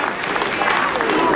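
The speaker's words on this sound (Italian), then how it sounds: "Fateglielo l'applauso" A rally crowd at a political event in Parma applauds, with a moderate wash of clapping and faint crowd noise throughout.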